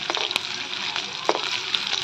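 Garlic, green chili, cumin and onion tempering frying in hot oil in a kadai sizzles steadily and close up, with sharp little pops and crackles scattered through it and no talking.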